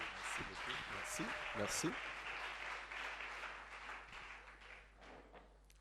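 A church congregation applauds in a broad, fading wave, with a few sharp near claps early on. A voice speaks briefly over the clapping as it tapers off.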